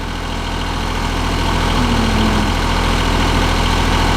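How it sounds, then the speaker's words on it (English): A John Deere 850 tractor engine idles loudly and steadily nearby, a constant low chugging rumble with no talk. "damn fine little working tractor"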